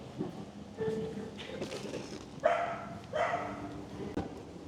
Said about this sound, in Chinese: 好多可爱的狗狗，跟狗狗说拜拜了